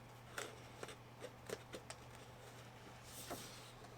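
Scissors fussy-cut patterned card paper in a few separate crisp snips, close and quiet, spaced irregularly over a faint background hum.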